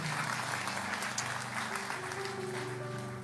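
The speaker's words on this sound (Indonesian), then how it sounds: "Boleh kita berikan tepuk tangan bagi Tuhan?" Applause from a church congregation, a steady, moderately quiet wash of clapping with a faint sustained tone underneath, lasting throughout.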